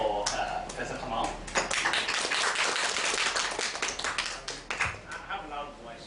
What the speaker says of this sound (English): let's give an applause for Professor Kamal.